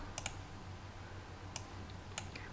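Computer mouse clicks on an open button in CAD software, a few sharp, faint clicks spaced apart over a quiet room hum, with no talking.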